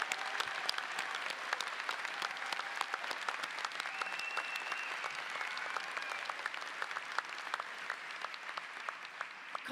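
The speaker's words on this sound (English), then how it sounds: "could we give these graduates a big round of applause?" A large audience applauds graduates at a 2023 convocation ceremony, dense sustained clapping that holds steady for about ten seconds from a big crowd in a hall.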